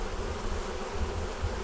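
Honeybees swarm around a thriving nucleus hive, their buzzing a dense, steady drone close at hand that fills the air without a break and no voices over it.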